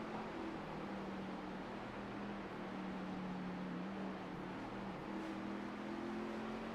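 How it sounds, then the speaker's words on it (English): Race car engines in an Xfinity Series esports race at Milwaukee drone steadily and continuously, with engine tones that rise, dip and shift pitch as the cars come off the throttle. No one speaks. "hearing the difference on the throttle, these cars are way out of the gas"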